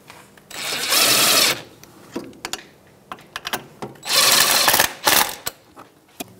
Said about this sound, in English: 17 millimeter socket, and we're going to snug these up before we torque them.